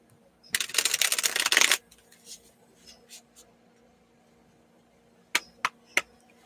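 Oracle cards are shuffled in a quick, dense riffling burst for about a second, followed by a few soft card slides and then three sharp taps, close and fairly quiet.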